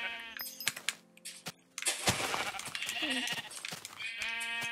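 Sheep bleat in the video game Minecraft, with a few nasal calls near the start and end, alongside clicking, game effects and a short stretch of busier noise in between.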